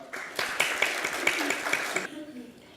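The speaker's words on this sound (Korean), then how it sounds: "큰 박수 부탁드립니다." Audience at a disability discrimination forum clapping to welcome a speaker, a brief burst of distinct hand claps that stops abruptly after about two seconds, leaving near silence.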